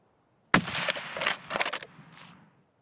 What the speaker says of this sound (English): Wait, they're shooting at me.